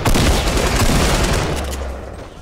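Light machine gun fire in Fortnite rattles loud and dense in a sustained burst of rapid shots that slowly fades out over a couple of seconds.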